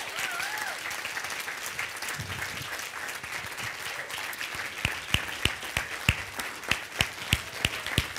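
Audience applause fills a business talk, a steady crowd clapping that gives way to distinct, rhythmic near claps in a regular beat, with brief voices heard faintly underneath.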